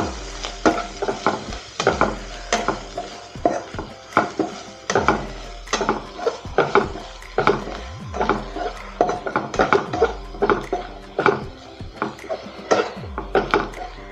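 Chili powder, coriander powder and curry masala with onions are stirred in a pan for chicken masala, giving a rhythmic, close scraping of a utensil against the pan with light sizzling beneath, repeated steadily.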